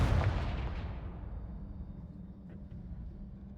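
A Confringo blasting spell in Hogwarts Legacy goes off as one loud, booming burst with a long rumbling decay that fades into a low steady hum.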